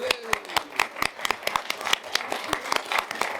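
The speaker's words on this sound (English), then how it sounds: "let's all give her a round of applause" A crowd applauding at a county commission meeting, dense irregular clapping from many hands, steady and fairly loud for a few seconds with no talking.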